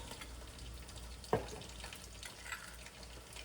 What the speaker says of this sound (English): So when the eggplants are getting fried, let us prepare the masala.